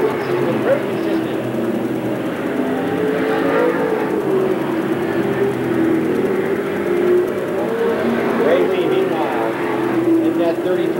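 Pro Stock race cars circling Seekonk Speedway during a heat race, a steady engine drone with a far-off car passing now and then, heard under a commentator talking throughout.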